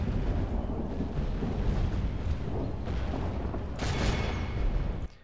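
Artillery cannons firing in the Empire campaign of Total War: Warhammer, a dense, rumbling barrage of booms that holds steady, with a louder blast near the end before the sound cuts away.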